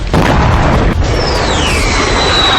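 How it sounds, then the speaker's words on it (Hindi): A bomb dropped by US fighter jets on a building in Sanaa blasts with a loud, booming roar that sustains as a rumble, with a second thump and a whistling, descending tone overhead. "अमेरिकी फाइटर जेट्स ने एक इमारत पर बम गिराया, जिसके बाद जबरदस्त धमाका देखा गया"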